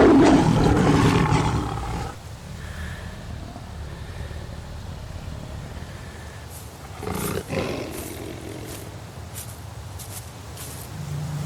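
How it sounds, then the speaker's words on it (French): A male lion roars loudly and close by at the start, a deep rumbling burst that fades into a long low growling rumble, with a second rough roar swelling briefly later on. "Le nouveau lion mâle s'approche des lionceaux du vaincu pour les tuer."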